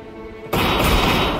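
Gunfire in the shooter video game Gunman Contracts, a sudden loud dense burst of shots cutting in and sustaining as a booming roar.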